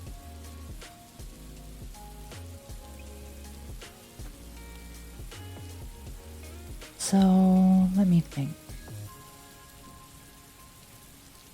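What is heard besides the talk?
rain falling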